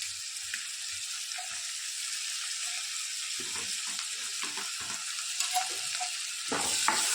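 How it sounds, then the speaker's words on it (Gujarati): Green garlic, onion and green chillies sautéing in butter in a pan, a steady close hiss and sizzle with faint stirring scrapes and small clatters, no voices. "આ બધી વસ્તુને આપણે સરસ શેકી લઈએ."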